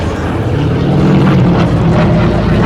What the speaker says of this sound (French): les évolutions que fait Jacques sont dans un volume tout à fait restreint pour un avion de cette taille-là